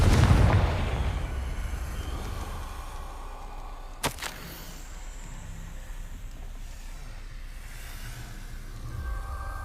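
Confringo explosive spell in Hogwarts Legacy: a heavy blast that booms and fades, followed later by a single sharp crack, then a low lingering rumble.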